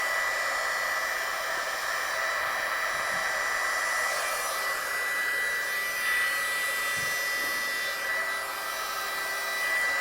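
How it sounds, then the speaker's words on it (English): Heat embossing gun heating up before use on cardstock, giving a steady, continuous blowing whir with no talk, constant in level from start to end. "I'm just going to get my gun hot before I pop it onto the cardstock."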